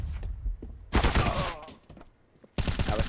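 Rapid gunfire spray in a Counter-Strike match on the Vertigo map, two loud dense bursts of shots separated by a quieter gap with muffled game sounds.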